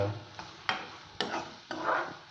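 Maggi noodles fry in a pan while a spatula stirs them. Scraping strokes come in a steady rhythm about every half second over a continuous soft sizzle, close and clear, with no talk.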